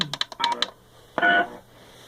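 Several quick telephone keypad beeps in a rapid sequence from a PBX voicemail system, followed by one longer electronic tone, then quiet.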